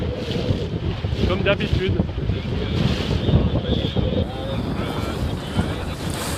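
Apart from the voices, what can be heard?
strong wind during a sailboat race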